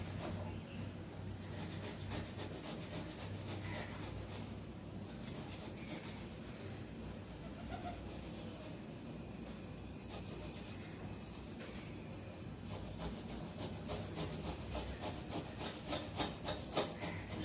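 A bottle gourd is grated by hand in a Bengali home kitchen, giving a long run of steady, rhythmic scraping strokes that stay close and even throughout.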